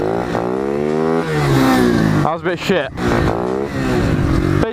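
A Honda CRF50-size pit bike with a 110cc engine revs in first gear, its buzzy motor rising and falling close by, with a brief sputtering dip midway and someone talking over it.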